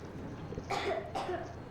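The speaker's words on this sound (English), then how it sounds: "I have this cough." Two short, rough coughs close up from a character in the video game Metro Exodus, in quick succession, over faint background hum.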